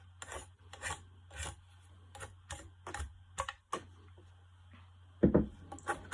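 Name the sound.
knife whittling a wooden stick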